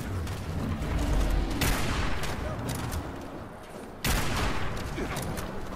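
Heavy .50 cal machine gun fire in Fallout 76 during a Sheepsquatch hunt: dense, continuous gunfire with two sharp, louder bursts. It sounds close, with battle noise around it.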